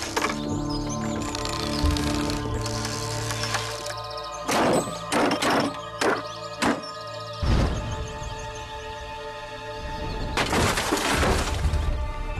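A ballista bolt strikes a stone wall during a replica test firing, giving a loud crack and several sharp, brief impacts that ring out over a steady background of tones and distant noise, followed by a second crash.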